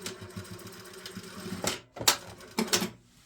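A sewing machine stitching a trouser waistband runs in short bursts of rapid needle clatter, with sharp pauses between them and a final burst before stopping, heard close up.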